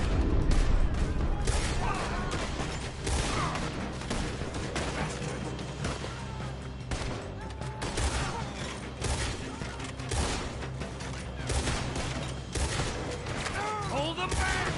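Gunfire during a shootout in the video game Red Dead Redemption 2, with frequent sharp shots cracking repeatedly over a busy, noisy background, mixed with voices shouting.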